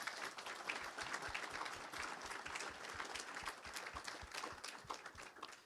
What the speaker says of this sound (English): let's give all three of our panelists a round of applause